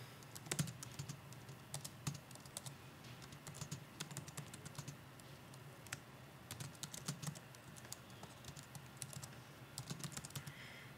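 Quick, uneven keystrokes on a computer keyboard as an email address is typed, faint and close, in short bursts with brief pauses and no talking.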